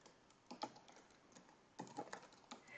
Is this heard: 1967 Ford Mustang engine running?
no